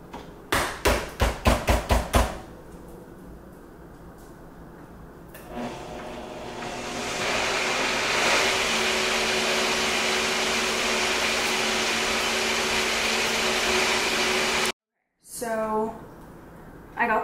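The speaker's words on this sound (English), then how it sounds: "back on the blender." A countertop blender running in a home kitchen: a few sharp knocks, then a loud, steady motor whir for about nine seconds that cuts out abruptly and briefly starts again.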